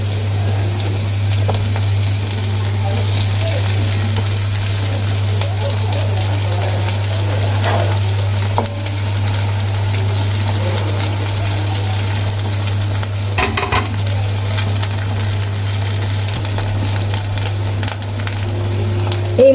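The rest of a batch of bata fish sizzling in hot oil, a steady close frying crackle with a low hum underneath and a few brief clatters partway through.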